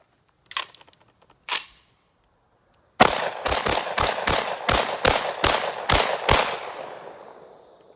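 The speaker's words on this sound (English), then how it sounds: "Sometimes you just want to run 10 rounds through something and just see what happens." A JTS M12 AR shotgun fired in a fast string of about ten loud booming shots that follow two earlier isolated clacks, with the last blast ringing out at close range.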